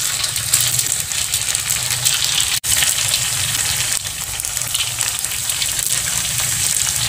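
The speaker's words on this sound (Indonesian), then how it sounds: "sekarang kita akan goreng dan minyaknya jangan terlalu panas banget ya" Wonton-skin pastries filled with glass noodles fry in moderately hot oil, giving a steady close crackling sizzle throughout with one brief cut.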